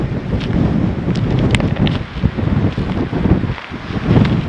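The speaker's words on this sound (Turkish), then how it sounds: "Yalnız burası rüzgarlı." Strong wind buffets the microphone at a seaside cafe by the rocks, a steady loud rumbling roar with gusts rising and falling throughout.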